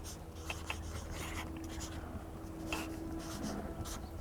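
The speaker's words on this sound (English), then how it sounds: "the table can share a box of chalk markers and write messages" Chalk markers scratch and rub across a table runner in quiet, intermittent strokes with small taps, faint and close, with no talking.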